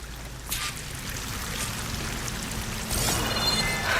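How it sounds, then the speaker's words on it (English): A waterfall in the video game Horizon Forbidden West gives a continuous rushing, pouring hiss, steady and fairly loud, swelling slightly toward the end with no voices. "That waterfall must be coming from somewhere."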